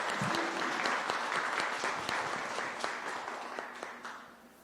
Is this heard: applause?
yes